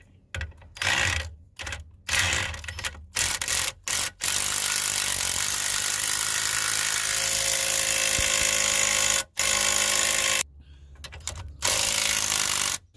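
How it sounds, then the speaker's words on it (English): An impact gun with a 16 mm socket drives in the ball joint bolt on a Peugeot 206 lower suspension arm, giving loud, close, sustained buzzing bursts broken by short pauses and a few brief rattling stops. "We're using a 16 mil socket on it and a gun to drive it in."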